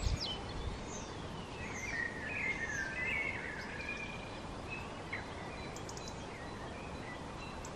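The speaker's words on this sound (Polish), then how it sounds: "Śpiewają ładnie ptaszki." Birds chirp and sing in scattered phrases over a steady outdoor hiss, the calls fairly faint and distant, with no voices.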